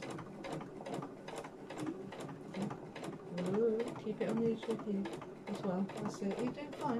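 A sewing machine stitches a fabric seam in quick, regular needle clicks that run steadily throughout, close by, while someone talks gently over it.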